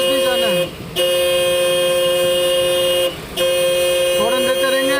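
A car horn blares in long sustained honks, two extended blasts separated by brief gaps, loud and close over steady road noise.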